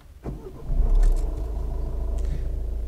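A 1.6 diesel car engine starts and settles into a steady low idle rumble, close by, after a brief clatter at the start.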